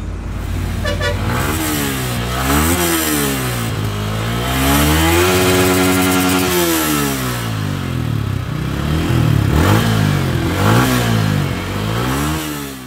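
A 2020 Yamaha MT15 BS6 motorcycle engine revs up through the gears, pitch climbing and dropping with each shift past 7000 RPM, loud and close, the sustained buzzing roar dominating with no talk.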